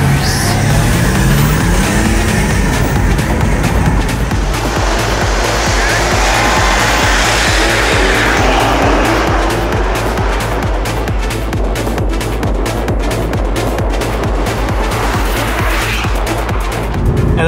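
A Range Rover and a VAZ 2107 Zhiguli race, heard as loud, steady engine roar with a rising tire squeal near the start, then a buzzing, pulsing drone that holds to the end, with faint voices under it.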